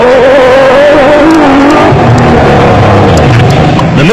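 An off-road race car with a 3.5-litre V6 Nissan engine roars loudly and close at a South African off-road race, its engine note rising and falling as it revs hard, with no pause throughout.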